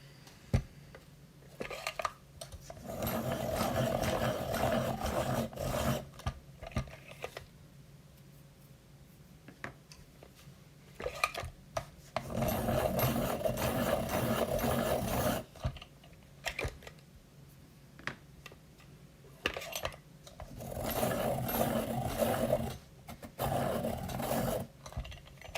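Coloured pencils being sharpened in a handheld sharpener, heard in three separate bursts of close, steady scraping and rasping with quiet pauses between them, and no talking over it.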